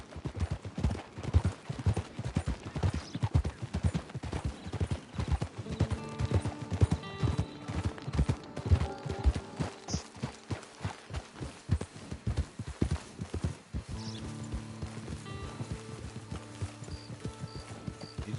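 A horse in Red Dead Redemption 2 gallops with steady, rhythmic clip-clop hoofbeats for the whole stretch. Faint game music and tones drift in later while the hooves keep pounding up close.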